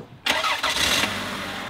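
A Toyota Camry with a broken drive shaft cranks and catches suddenly, then settles into a loud, steady idle close by.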